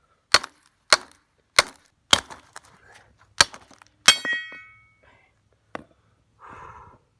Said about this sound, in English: take a sledgehammer and hit the bottom of shock upwards